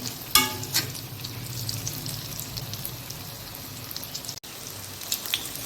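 Raw banana and onion fritters fry in oil with a continuous crackling sizzle, starting with a couple of sharp clinks of a utensil.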